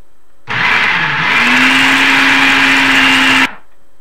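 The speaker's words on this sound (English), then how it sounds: "this has been mixing in the food processor for just about 60 seconds." A food processor mixing wonton wrapper dough starts up and runs loudly for about three seconds, a steady whirring motor hum that settles into a constant pitch, then stops abruptly.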